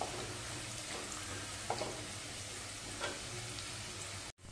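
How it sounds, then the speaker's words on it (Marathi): Garlic fries in oil for a dhaba-style garlic fenugreek dish, giving a steady, close sizzle with soft stirring scrapes and occasional clinks, ending in a brief cut. "आता ही फोडणी आपण परतवून घेऊया"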